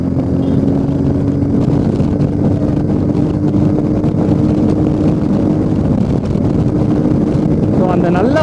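A Royal Enfield Meteor 350 motorcycle cruising in fifth gear at about 120 km/h, a loud steady engine drone with heavy wind rush over the microphone throughout.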